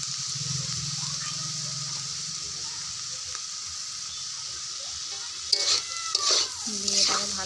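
Chopped onion, tomato and green chili fry in a pan for restaurant-style chowmein while being stirred, making a steady close sizzle with soft scraping; a person speaks briefly toward the end.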